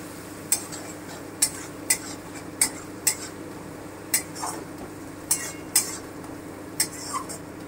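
Spices for chicken kosha are stir-fried in a pan, with a metal spoon repeatedly clinking and scraping against the pan in a regular rhythm over a faint background hiss, close up and with no voices.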